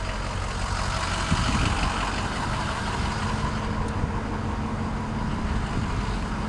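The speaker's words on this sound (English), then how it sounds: "This is a clean running diesel too." A 2006 Ford F350 XLT with the 6.0 turbo diesel idles steadily nearby, a low, even rumble with a faint whine and no speech.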